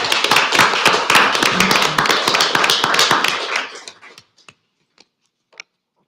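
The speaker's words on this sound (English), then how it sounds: "Big round of applause for our staff for such a great event." A council meeting audience gives its staff a round of applause, a loud close burst of clapping for about four seconds that then dies away to a few scattered final claps.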